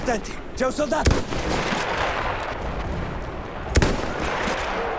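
Sniper gunfire in the video game Battlefield 1, two sharp loud shots about three seconds apart over a dense, noisy battlefield background, with someone speaking briefly at the start.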